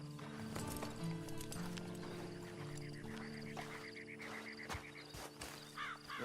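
Horse in the video game Red Dead Online, hooves clip-clopping steadily with a whinny, set against a low background tone and faint ambient croaks, no one speaking.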